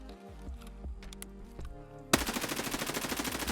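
Sustained automatic fire from an M4A1 assault rifle in Escape from Tarkov bursts in loud and rapid after quieter in-game ambience and clicks, a dense stream of shots continuing steadily to the end.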